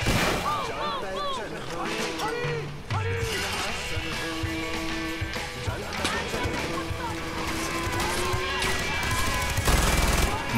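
Machine gun nests in Far Cry 4 fire rapid bursts, mixed with other gunfire and engine rumble, while a voice talks over the combat throughout.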